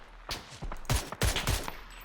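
Several loud gunshots crack in quick succession, a short burst of PUBG gunfire with a few separate bangs close by.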